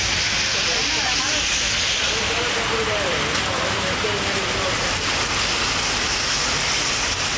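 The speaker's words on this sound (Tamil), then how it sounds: "வல்லம்படுகை உள்ளிட்ட இடங்களில் மழை பொழிந்தது." Heavy rain falls steadily across an outdoor area in Tamil Nadu, a dense, continuous hiss of drops close by with no letup and no voices.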